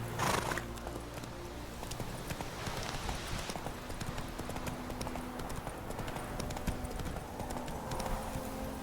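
Roach, the horse in The Witcher 3, trots with a steady clip-clop of hooves. The hoofbeats are fairly quiet and sit under ambient game sound.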